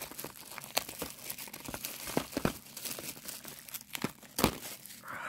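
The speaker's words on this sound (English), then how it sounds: "let's just get out of the packaging" Plastic wrap is peeled off a Blu-ray case with close, irregular crinkles and sharp crackling bursts, steady rustling throughout and a louder tear near the end, with no talking.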